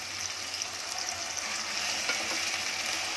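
Chopped onions, three medium ones, sizzle and fry steadily in a pan for a prawn dish, a dense continuous crackle with faint stirring and no talk.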